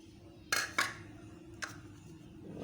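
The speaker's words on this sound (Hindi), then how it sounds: "अब एक मिक्सिंग बोल लेते हैं, इसमें मैदा डालते हैं, 2 कप मैदा।" Mixing bowl being handled as flour goes in: two sharp clinks close together, then a third lighter knock a second later, set against quiet kitchen room tone.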